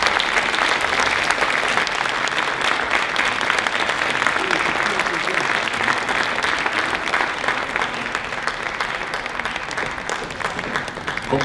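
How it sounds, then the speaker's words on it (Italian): Audience applauding a young forty-member town band from Osimo as it takes the concert stage: dense, steady clapping from a large crowd, loud and continuous for over ten seconds, easing slightly toward the end. "Applauso."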